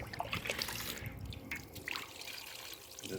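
Water splashes and trickles at close range as a gentle stream rinses foam off an engine valve cover outdoors, with uneven drips and a light breeze.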